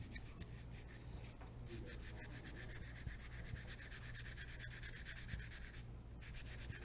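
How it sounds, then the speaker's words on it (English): Sandpaper rubs steadily against a wood turning spinning on a lathe, a continuous scratchy hiss with a fast rhythmic pulse over the machine's low hum. "So I'm going to sand that down."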